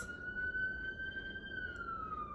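A police siren passes outside, a loud steady wailing tone that holds and then slowly drops in pitch as it moves by, over low traffic rumble.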